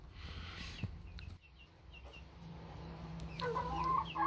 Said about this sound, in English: look, he was just trying to crow there